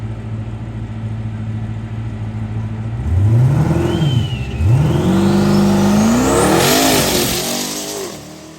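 Twin turbo Hellcats, Trackhawks and Ram TRX trucks accelerate on a race track, loud close engines rising in pitch through gear changes with a high turbo whine, then fading slightly as they pull away.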